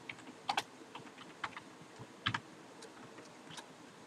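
Quiet typing on a computer keyboard, scattered soft key clicks at an irregular pace with a few brief double taps, close and alone.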